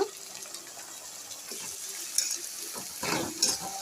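Ginger garlic paste hits a pan of browned onions and whole spices in a home kitchen, giving a soft sizzle and stirring scrapes that rise toward the end, with some watery splashing sounds.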